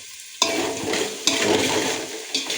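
Onions hit hot oil in a pan for veg pulao with a sudden loud sizzle that holds steady, broken by a couple of spatula stirs, close up and with no voices.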